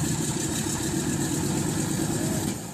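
A World War II–era Douglas C-47 radial engine runs after ten years dormant, giving a loud, steady, rumbling drone that holds evenly and eases off slightly at the very end.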